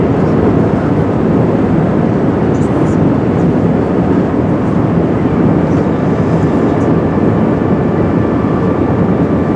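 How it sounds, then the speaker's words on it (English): Steady, loud broadband roar inside the cabin of a British Airways Airbus A380 on final approach to London Heathrow, continuous engine and airflow noise with no talk. "Just flying over Windsor now for the final approach to London Heathrow."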